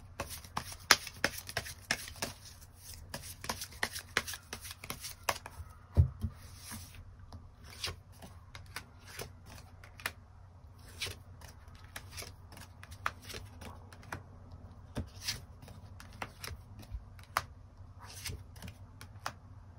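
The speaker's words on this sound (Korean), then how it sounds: "추가 카드 뽑아보도록 하겠습니다" Tarot cards are shuffled and drawn by hand in a quiet room, with a fast run of crisp papery flicks and slaps, some faint rustling, and only brief pauses.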